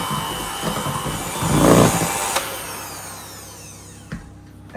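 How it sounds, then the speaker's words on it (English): Cake batter for a limoncello lemon drizzle cake being briefly beaten to work in the flour, a steady motorized whirring that swells, then fades to a low hum and stops with a couple of small knocks. "you can whisk this again briefly to beat the flour in"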